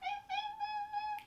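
A cat meows two short times, then once in a longer drawn-out cry, close by and fairly soft with no other sound.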